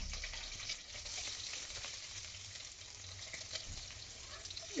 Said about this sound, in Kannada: ಸ್ವಲ್ಪ ಇದು ಎಣ್ಣೆಲಿ ಫ್ರೈ ಆಗಲಿ.